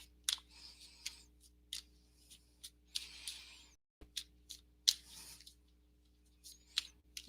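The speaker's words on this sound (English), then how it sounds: "More shuffling." A deck of cards is shuffled and handled during a live psychic reading, giving a string of crisp riffling snaps and clicks spread irregularly across the clip with short quiet gaps between them.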